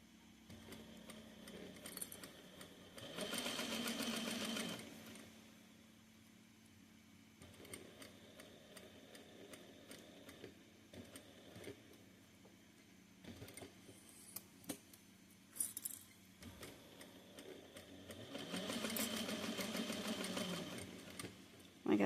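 A sewing machine stitching a fabric sunglass case made of hard-to-sew material, running in two sustained bursts separated by quieter handling, clicks and pauses, fairly faint overall.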